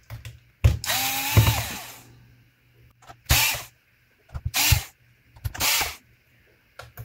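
Screwdriver backing screws out of a Lenovo Ideapad Flex 5 laptop case during an upgrade from a hard drive to an M.2 NVMe SSD, giving several close, separate bursts of scraping, whirring turns with pauses between them.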